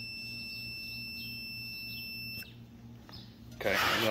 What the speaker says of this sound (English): so when I touch these together, it should beep.